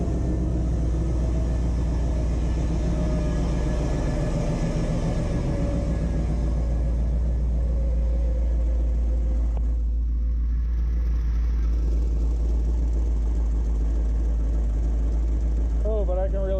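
A square-body crew cab truck with a swapped-in LS engine idles with a steady low rumble and a persistent exhaust leak, close and continuous throughout.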